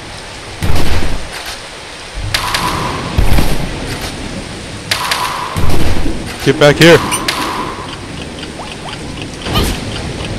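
Rain falling in the Battle Block Theater video game, a hissing downpour punctuated by thuds and low rumbles, with a voice shouting over it.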